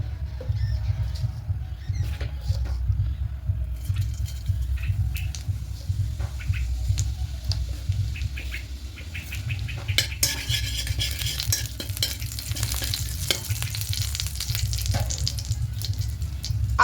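Whole cumin seeds temper in ghee in a wok with a soft, continuous sizzle. A spatula scrapes and stirs, and irregular clicks and taps run through it, busiest toward the end.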